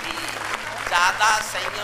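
Audience clapping at a Hindi poetry recital honoring martyrs, a short burst of applause rising in two swells, with a voice speaking over it.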